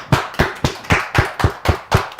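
Audience applause at an AMG Realtors land sales company event, heard as eight sharp, evenly spaced clap bursts, fairly close and loud, with no talking over them.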